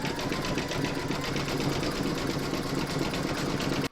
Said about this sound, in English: you are now going to stitch round number 7, and that's going to do the satin stitch around the dark circle